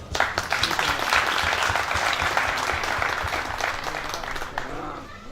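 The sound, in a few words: round of applause at leadership ceremony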